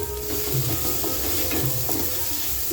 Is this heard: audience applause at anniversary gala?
no